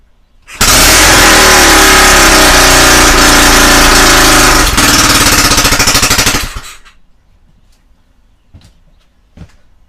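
A Honda CB250RS motorcycle engine on choke bursts into a loud, harsh, rattling run for about six seconds, then cuts out abruptly. A few faint clicks and knocks follow in the quiet that remains.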